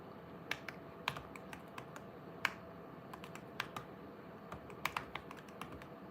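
Typing on a computer keyboard at a meeting: scattered, irregular key clicks and a few sharper taps over a low room hum, fairly faint and close, with no talk.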